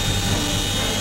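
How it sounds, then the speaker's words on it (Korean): A military transport helicopter passes overhead at an armed forces day high-altitude parachuting display, a dense, loud, continuous rotor and turbine roar filling the whole moment. "드디어 고공강화팀 수송헬기가 나타났습니다."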